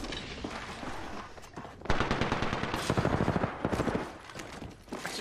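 Rapid bursts of automatic gunfire from the battle royale video game Apex Legends crackle loudly and closely, several overlapping weapons firing in quick rattling volleys with brief pauses between them.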